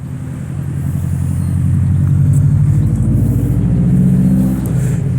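A vehicle towing an unsafe trailer rumbles past close by, its engine drone swelling and holding loud before easing slightly as it goes.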